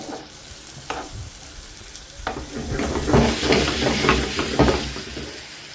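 Masala sautéing in hot oil, a steady loud sizzle with stirring scrapes that swell partway through, close up with no talking.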